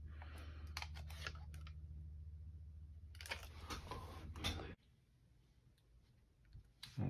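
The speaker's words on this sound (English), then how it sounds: "And we just check that the clicking is proper." iPad 6 home button pressed during a screen repair, sharp close clicks in small clusters over a low steady hum, then a quieter pause and a final click or two.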